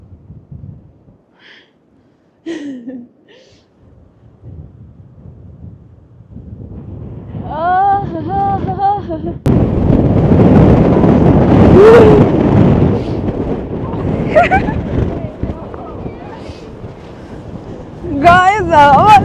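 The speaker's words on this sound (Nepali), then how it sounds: "गाइस हावाले मान्छे फुलै उडाइरहेको यार" Strong wind in the Colorado mountains buffets the microphone in a deep, loud rumble that swells from midway and keeps gusting, with voices and brief sounds before it.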